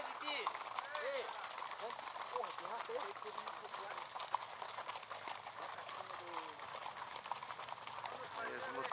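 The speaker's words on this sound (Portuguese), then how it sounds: "Meu Deus, isso aqui é cavalo." Horses' hooves clip-clop steadily on a group trail ride during a cavalgada at Cachoeira dos Araças, Santo Amaro da Imperatriz, mixed into busy outdoor noise with people talking throughout.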